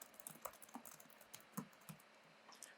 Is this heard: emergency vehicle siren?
no